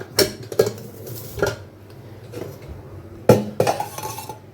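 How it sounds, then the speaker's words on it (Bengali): A metal kadai holding thin soybean curry is set onto a stove, giving several loud close clanks and clinks of metal cookware spaced irregularly, with quieter handling noise between them. "সোয়াবিনের ঝোল যেটা একটু পাতলা করতে হবে ঘন হয়ে গেছে কড়াইতে বসিয়ে দিই"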